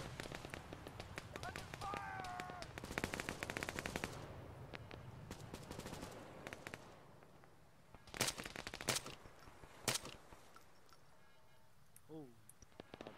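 Video game gunfire crackles in quick automatic bursts and single shots, some near and sharp, others more distant, over low ambient rumble, with players talking over it.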